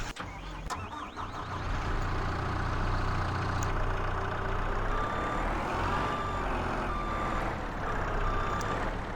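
A skid steer backs up in Farming Simulator 22, its steady, repeating reversing beeps sounding over a continuous droning engine rumble for several seconds, fairly close and with no talking.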